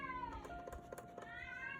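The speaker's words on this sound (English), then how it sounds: "that's my cat yowling because she likes to bring me a toy" A pet cat yowls with drawn-out, wavering cries, fairly close and alone, in a quiet indoor room during an adult coloring session.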